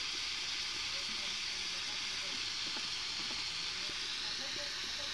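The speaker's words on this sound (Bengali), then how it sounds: "কম আঁচে ভাজবো, তাহলে আলুটা ভালোভাবে ভাজাবে, সিদ্ধ হবে।" Potatoes fry on low heat in a pan for a Bengali bata fish dish, a steady close sizzle and hiss running throughout with faint crackles and a little stirring.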